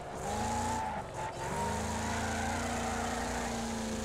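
Race car engine in the demolition racing game Wreckfest, a steady loud drone held throughout with a brief dip near the one-second mark, no talk.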